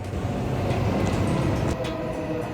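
Loud, steady rumble of a train rolling along the rails in Japan, with a low clattering roar and a brief higher screech near the end.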